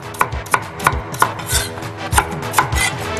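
Cilantro and carrots are chopped on a cutting board with a knife, about ten crisp, evenly spaced knocks close by and loud, with no talking.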